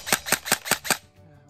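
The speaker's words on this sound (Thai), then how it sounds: "เราก็จะมาดูว่าการยิงเนี่ยติดขัดอะไรหรือเปล่า เซมิก่อนนะครับเป็นระบบโบแบ็กเนาะ" An MK18 MOD1 electric airsoft gun with a blowback bolt fires five sharp semi-automatic shots in an even rhythm, each a loud close crack with a mechanical snap, followed by near silence.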